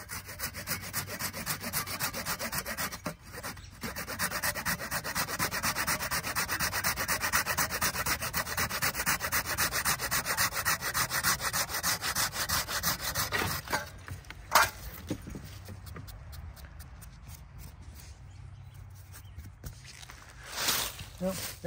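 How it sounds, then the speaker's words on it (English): Japanese handsaw cutting through a tree limb, fast rhythmic rasping strokes carrying on for about fourteen seconds, close and loud, then slower scattered strokes and rustling with some talk. "I'll use this handy dandy Japanese blade"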